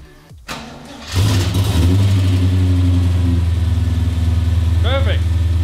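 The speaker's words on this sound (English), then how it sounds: "I've never done this car on a cold start." A car engine with an LS V8 cold starts: it cranks briefly with the choke set, catches and roars up, then settles into a loud, lumpy idle, with a voice briefly heard near the end.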